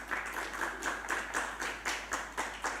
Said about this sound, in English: please give applause to Mr. Oni Afrianto Jamhari